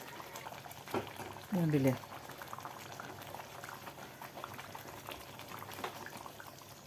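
Thickened tamarind-ginger sauce simmers in a pan with a steady, close bubbling and soft popping, while a voice speaks briefly over it.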